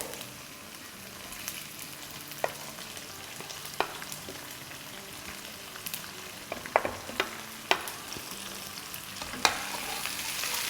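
Thinly sliced onion sautés in hot oil for a masala bhindi dish, giving a steady soft sizzle with occasional louder ticks and scrapes as it is stirred.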